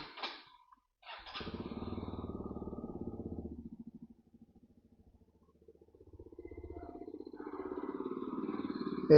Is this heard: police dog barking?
no